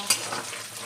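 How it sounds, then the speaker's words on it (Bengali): Onions frying in a pan for Bengali alu posto, a soft sizzle with a quick scrape of stirring, brief and fairly quiet with no talking. "তো পেঁয়াজ ভাজা হয়ে গেছে, পেঁয়াজটা লাল হয়ে গেছে"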